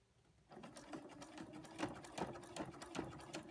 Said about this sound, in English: And now again, some taut sewing.